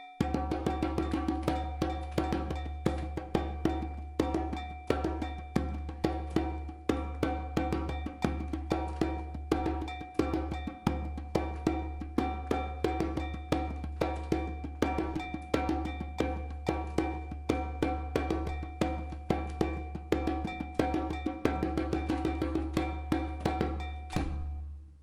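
Kpatsa drumming ensemble from Ghana in a house-concert setting, playing dense, steady, driving rhythms with sharp repeated strokes and a deep low pulse, sustained loud throughout with no talk.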